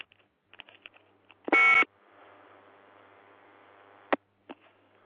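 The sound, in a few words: telephone beeps during a call with phone trouble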